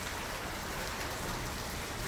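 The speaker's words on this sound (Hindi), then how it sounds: "तो मैं आपको दिखाती हूँ आज बारिश का नज़ारा।" Heavy monsoon rain pours down in a steady, dense hiss that stays constant and close throughout, with no voices over it.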